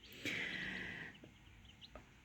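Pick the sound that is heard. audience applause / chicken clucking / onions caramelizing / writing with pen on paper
chicken clucking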